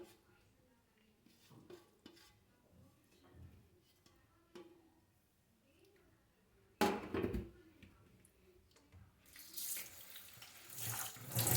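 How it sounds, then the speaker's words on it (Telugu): Water from a tap runs into a bowl of grated yam while it is washed, with soft stirring and swishing at first, then louder gushing bursts of running water toward the end. "దీంట్లో వేసి వాష్ చేసుకుంటాను నేను స్లోగా."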